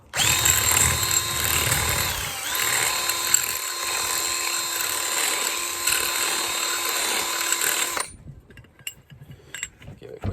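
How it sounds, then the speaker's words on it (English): A small drill with a 10mm bit runs continuously, bored through rusty metal on an offroad recovery rope fitting, a loud high-pitched whine with a slight pitch dip, then stopping abruptly into quiet handling clinks. "all we're going to do is drill through here, moving the drill around"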